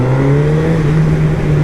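A 2023 Honda CB1000R motorcycle engine runs loud and close, holding a steady, strong rev with a clear droning tone and rich harmonics, and no voices over it.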